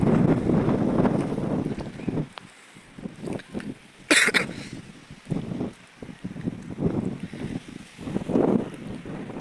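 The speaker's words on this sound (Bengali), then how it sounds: "প্রচুর পরিমাণ বাতাস আর হালকা হালকা বৃষ্টি পড়তেছে" Strong, gusty wind buffets the microphone near moored fishing boats during bad weather with light rain, surging and dropping in bursts, with a brief cough partway through.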